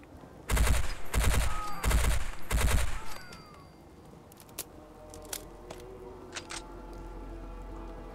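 Gunfire in a virtual reality shooter against ghoul enemies, played on a Vive Pro 2 headset: four loud, close automatic bursts in quick succession, followed by quiet game ambience with a few faint clicks.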